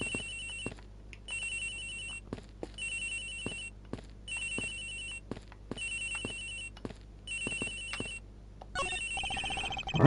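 A cell phone rings from inside a locker in the Ace Attorney Investigations game, a repeating electronic ringtone in steady bursts with short gaps, about eight rings in a row, loud and clear with no talking.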